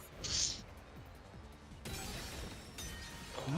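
Glass shatters from a shot in a video game, a bright, brief crash near the start over low background noise and game sounds, followed by quieter clinks.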